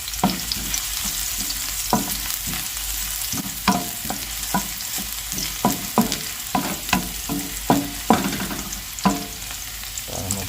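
Garlic and onion sautéing in a pan, with a steady close sizzle broken by repeated sharp scrapes and knocks of a utensil stirring throughout, and no voices.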